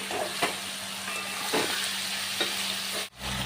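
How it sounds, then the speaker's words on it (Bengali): Okra and tomato masala sautéing in a pan gives a steady, close sizzle, broken by a few distinct spatula stirs and scrapes. No voices are heard. "ভালো করে কষিয়ে নিতে হবে সব।"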